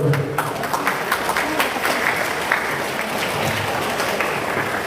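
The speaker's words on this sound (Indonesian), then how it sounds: "Mari kita bagi tepukan dulu." Crowd applause fills a hall at the opening ceremony of a karate kata tournament, a loud, even roar of many clapping hands sustained for several seconds without pause.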